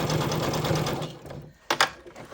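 A Brother SH40 sewing machine runs a default zigzag stitch, a steady rapid mechanical whir with a pulsing rhythm, pausing briefly before a couple of short bursts near the end.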